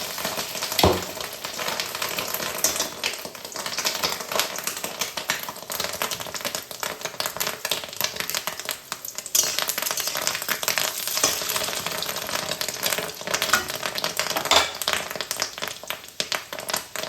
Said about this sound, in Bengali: গরম করে ফেটানো মাছের ডিমটা আস্তে আস্তে বড়ার মতো করে দিয়ে দিতে হবে।